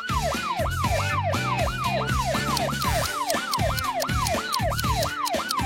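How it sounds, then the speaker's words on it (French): A rapid, wailing siren sweeps up and down repeatedly, loud and continuous, over a busy background with rhythmic low thumps. "C'est une alarme?"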